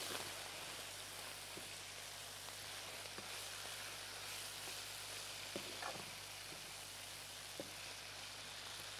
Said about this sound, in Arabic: نقلب شويه بقى البهارات تاخد مع بعض